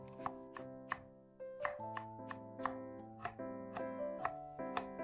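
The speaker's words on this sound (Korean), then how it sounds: "고구마 중간 크기 2개는 깨끗이 씻어서 먼저 가늘게 채 썰어 주세요." Two medium sweet potatoes are cut into thin julienne strips with a knife, giving a quiet, quick, steady run of crisp strikes on a cutting board over soft background music.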